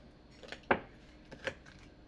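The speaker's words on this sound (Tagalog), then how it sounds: "Unahin ko na nga itong pinya. Malambot-lambot itong pinya oh. Paghihiwa-hiwain ko." A few sharp knife cuts through a soft pineapple against a board, spaced irregularly, with one louder chop in the middle; quiet otherwise.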